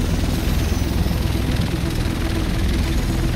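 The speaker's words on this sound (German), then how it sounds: "Der Rest von uns sitzt in diesem Heli." A helicopter in the video game The Division thrums steadily and loudly with a dense, continuous rotor and engine roar throughout, with no voices over it.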